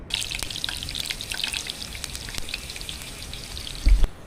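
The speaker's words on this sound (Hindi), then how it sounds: "तेल से टिप टप वाली आवाज़ें आने लगी है, यानी कि बारिश के कतरे तेल पे पड़ने लगे हैं, गरम तेल पे।" Raindrops land in hot cooking oil, making a soft, steady sizzle scattered with faint crackling pops, close and quiet, followed by a brief thump near the end.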